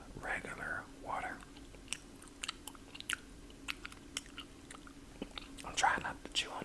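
Quiet, close-up chewing with intermittent crunchy bites and soft mouth noises, scattered irregularly across a hushed background.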